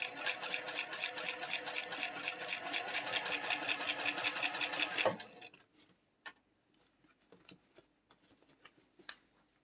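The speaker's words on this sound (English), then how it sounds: "I am sewing in no logical order." A sewing machine runs steadily for about five seconds with a fast, even stitching rhythm, then stops, followed by quiet scattered clicks and handling noises.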